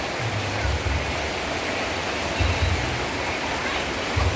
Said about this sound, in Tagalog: Umuulan. Malakas ang ulan.